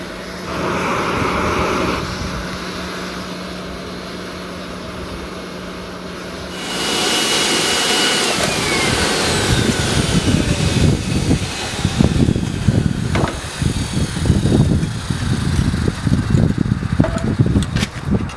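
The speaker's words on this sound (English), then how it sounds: "After the forge has been going for a while, some aluminium scrap is added into the cast iron pot" A forge roars steadily while aluminium scrap heats in a cast iron pot, a loud continuous blowing rush that shifts character partway through, with scattered clanks and knocks over the burner noise.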